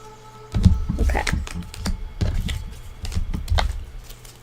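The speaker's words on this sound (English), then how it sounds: "These are fun to shuffle here." Tarot cards being shuffled by hand during a reading, giving a run of quick papery riffles and soft slaps in short irregular bursts, close and moderately loud.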